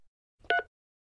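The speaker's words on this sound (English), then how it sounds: "can you please press the star button on your phone now?" A single short telephone keypad tone from pressing the star button, a brief clean beep standing alone in silence.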